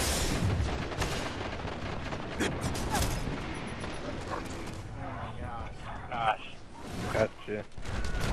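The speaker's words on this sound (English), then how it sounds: "Follow the explosions." Rapid booming explosions and gunfire crackle in a dense barrage in the video game Destiny, with bursts of game sound effects and some talk mixed in.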